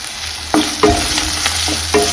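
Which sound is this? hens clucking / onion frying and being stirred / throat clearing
onion frying and being stirred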